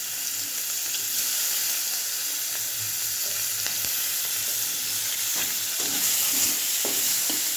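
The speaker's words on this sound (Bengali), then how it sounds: "আমি মাছের জন্য শুকনো লঙ্কা ফোড়ন দেই না, তবে আজকে দিলাম।" Dried chilies and onion fry in plenty of hot oil for a fish curry, making a steady, close sizzle throughout, with a few faint stirring clinks and scrapes near the end.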